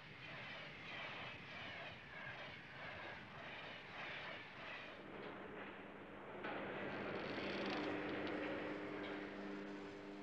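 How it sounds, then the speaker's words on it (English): A French TGV Turbotrain, powered by four helicopter-derived gas turbine engines, races past at 170 mph with a loud, steady roaring rush and turbine whine that swells and brightens toward the end, with no voices. "The train is powered by 4 gas turbine engines, which were originally developed for French military helicopters."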